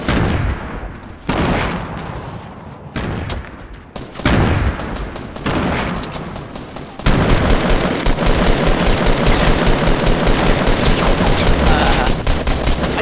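Rapid gunfire in the Fortnite Battle Royale video game: loud, dense automatic bursts come in choppy clusters at first, then a continuous unbroken barrage of shots that fills the second half, with no voices over it.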